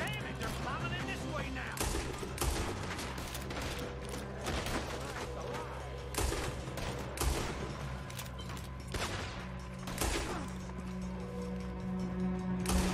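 Rapid gunshots ring out in Red Dead Redemption 2, a dense string of sharp cracks and bursts repeating throughout at moderate volume, mixed with game sounds and a player's voice.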